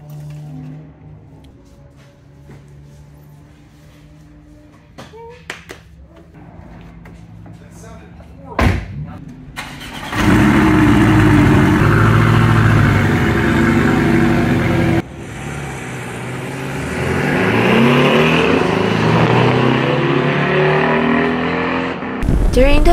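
A 2017 Porsche 718 Cayman at a Buttonwillow track day: quiet cabin and interior clunks give way to a loud, sustained engine roar with rising and falling revs. A sharp slam and a sudden shift in the engine note break it midway.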